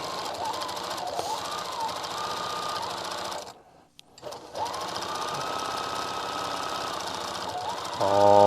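Sewing machine quilting stitches on a quilt, running as a steady rapid mechanical chatter that pauses briefly in the middle, then resumes and grows slightly louder near the end.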